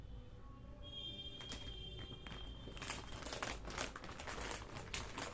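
Plastic bag crinkling as a folded sherwani is stuffed inside, a steady rustle that grows busier and denser partway through, with faint ticking taps mixed in.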